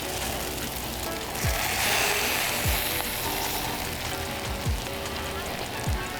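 Smash burger with onions sizzling on a LoCo SmartTemp griddle, a steady crisp frying hiss throughout, close and fairly loud, with a few soft scraping swipes and someone talking over it.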